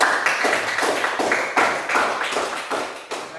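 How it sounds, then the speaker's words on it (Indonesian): A classroom of students applauds group 1, a dense run of many hands clapping at once, steady and close, with small surges in loudness across the few seconds. "berikan aplaus kepada kelompok 1"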